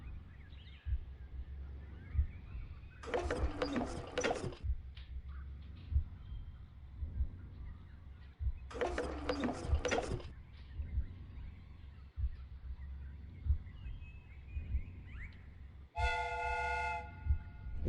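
Replica steam train mechanism in a video game, with steady low rumbling throughout, two loud hissing steam bursts and a short whistle tone near the end.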